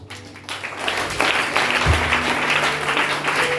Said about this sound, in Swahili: Kwanza tutajipigie makofi.